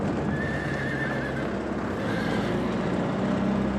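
Wild horses descended from work horses in karst country of southern Bosnia and Herzegovina neigh loudly, with a drawn-out whinny over steady clip-clopping hooves and a dense outdoor rumble.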